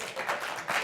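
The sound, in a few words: TV studio audience clapping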